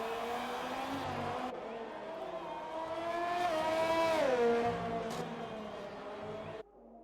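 A race car engine drones on an onboard lap of the Mexican Grand Prix circuit in a GP1 racing game. Close and loud, the engine pitch climbs and drops through gear changes, then cuts off abruptly near the end.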